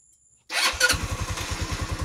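Motorcycle engine started after a moment of silence, catching quickly and settling into a close, loud, rhythmic idle.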